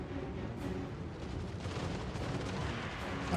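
Artillery fire in the Total War Warhammer video game, a dense continuous rumble of booming cannon blasts and explosions rolling together without pause, loud and close throughout.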